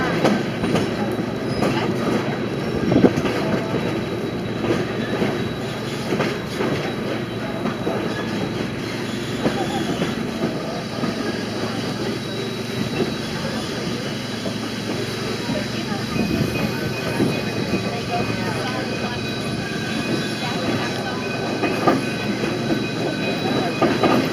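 A Cumbres & Toltec train rolls on rails between Osier and Sublette, giving a steady close rumble with wheel clatter and occasional squeals, while people talk nearby throughout.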